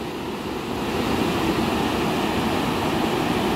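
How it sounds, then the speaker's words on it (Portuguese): Water pouring over the spillway of a reservoir dam at full capacity, a continuous heavy rushing roar that swells slightly after the first second, with no talk. "tá vertendo água,"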